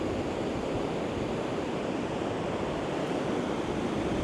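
Surf waves wash steadily onto a Northumberland beach at night, a continuous broadband rush with some wind noise, heard alone and at moderate level.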